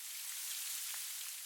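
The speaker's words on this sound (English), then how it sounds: "The soothing sound of soft rain," Soft, steady rain patters on a surface as a continuous hiss, with a few faint droplet ticks and no voices.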